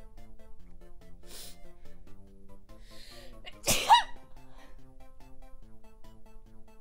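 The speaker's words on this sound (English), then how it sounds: "Oh, I'm going to sneeze." A single sharp human sneeze bursts out midway over quiet video-game background music, brief and close.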